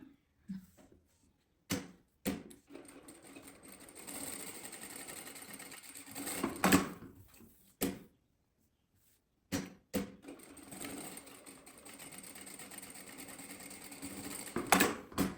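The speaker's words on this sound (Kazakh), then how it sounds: "Резинаны осылайынан жақсылап қатты қылып айналдырып тігіп аламыз." A sewing machine stitches an elastic waistband onto a skirt, running in two long loud bursts separated by a pause, with short handling clicks and knocks around them.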